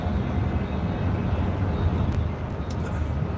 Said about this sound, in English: Planes are coming in for a landing from the ocean side.